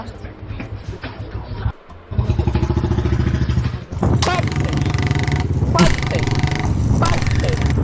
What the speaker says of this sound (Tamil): டேய் புல்லட்னா இப்படி பட்டு பட்டுன்னு ஓட்டினா தானே சும்மா பட்டாசா இருக்கும்